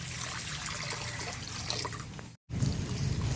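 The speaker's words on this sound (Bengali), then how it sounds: "আমি সেদ্ধ করার জন্য পরিমাণ মতো জল দিয়ে দেবো" Water is poured into a wok to boil cut mahua fruit, giving a close, steady splashing trickle that breaks off briefly and then resumes.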